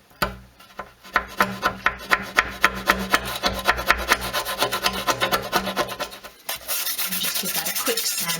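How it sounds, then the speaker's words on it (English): A flat head chisel scrapes dried glue off wood in a quick series of rhythmic rasping strokes, close and loud, then gives way to a steady rougher rubbing at the end. "I'm just using a flat head chisel here."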